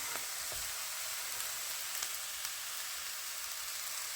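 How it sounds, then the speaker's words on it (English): Mushrooms frying in a pan for spaghetti bolognese give a steady, even sizzle with a few soft clicks of stirring, close and moderately quiet throughout. "I've got the mushrooms in. Just cook them for a couple of minutes."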